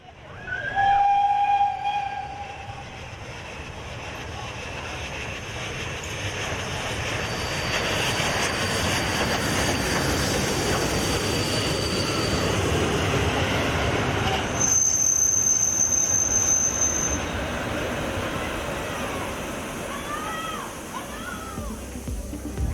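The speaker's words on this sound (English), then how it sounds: "They are the fastest preserved steam loco in operation with Trenitalia" A preserved Trenitalia steam locomotive hauling a train rumbles past at a distance, a broad steady roar swelling and easing over many seconds with brief high whistle-like tones and faint wheel squeal.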